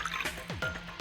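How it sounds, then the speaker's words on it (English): Ethanol poured into a lab drain in a video game, a quick burst of glugging, dripping liquid with short splashy gulps and a faint clink, close and clear. "I'll just pour the froggy ethanol into the drain."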